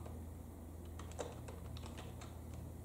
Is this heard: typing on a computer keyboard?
yes